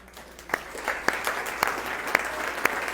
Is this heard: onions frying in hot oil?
no